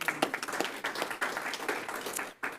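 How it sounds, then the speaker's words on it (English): A board meeting audience applauds, with dense, moderately loud clapping that is steady for about two seconds and then thins to a few final claps. "Yes, you can clap,"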